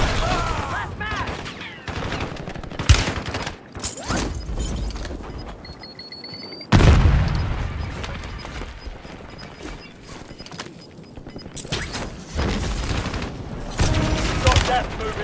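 Dense bursts of automatic gunfire from a Call of Duty ranked match crackle and boom in repeated volleys, loud and close, with sharp single shots and brief lulls between heavy exchanges.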